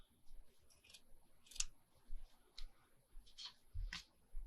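Scissors cut off a piece of lace during a paper envelope-booklet craft, making a few faint, scattered snips and clicks in a quiet room.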